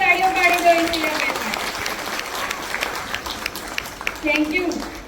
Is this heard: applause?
yes